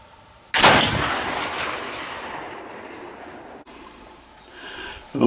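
A single loud, close blast from a Kibler Woodsrunner flintlock-style muzzleloader rifle, its sharp crack followed by a long rumbling decay across the range, then quiet with a faint click near the end.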